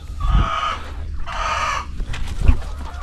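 Chickens cluck and crow loudly up close, two long harmonic calls with a few sharp clucks in between.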